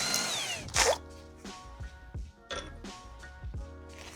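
Short bursts of a power tool loosening the wheel bolts on a Mercedes E-Class W212, each followed by a metallic clink, repeating in a rhythmic pattern about four times.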